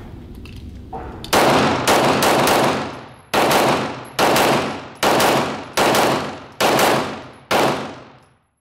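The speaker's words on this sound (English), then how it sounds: "So we'll go ahead and shoot through this." Canik TP9SF Elite Combat pistol fired outdoors in seven loud, close, evenly spaced shots, each followed by a short ringing decay. No talking.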